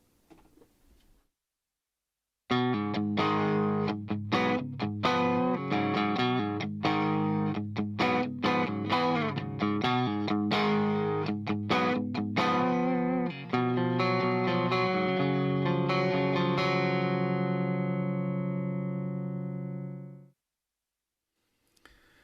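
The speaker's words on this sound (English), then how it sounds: "At the moment I'm on the clean guitar" An electric guitar with a fairly clean tone, recorded through a Slate Digital ML2 microphone, plays a rhythmic riff of strummed chords and single notes, close and loud, ending on a long sustained chord that fades out.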